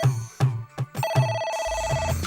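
A telephone rings in an office, its repeated electronic tone close and fairly loud, broken in and overlapped by short spoken bursts.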